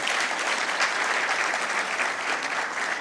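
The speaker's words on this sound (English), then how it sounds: "Please, let's clap for him again." Audience applause at an emerging leaders graduation ceremony honouring an ambassador, steady dense clapping throughout at a moderate level with no voices on top.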